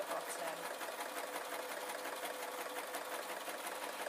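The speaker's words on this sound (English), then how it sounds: "I'm just allowing the sewing machine to sew down to the bottom." A sewing machine stitching a zip onto a pencil case, an even rapid whirring run of stitches at close range, fairly quiet and steady throughout.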